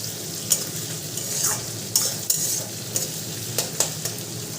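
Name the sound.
chopped onions frying in a pan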